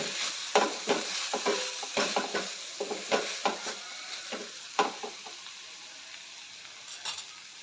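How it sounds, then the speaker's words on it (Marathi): A spoon stirs coriander powder and spices through a frying pan, making a run of close, quick scraping strokes over a light sizzle that thins out toward the end, with no talking. "धने पावडर दीड चमचा घालते तर हे सर्व मिक्स करून घेऊया"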